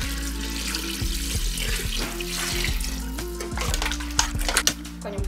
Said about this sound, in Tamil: தேவையான அளவு தண்ணி ஊற்றி கறி நல்லா வேக வச்சு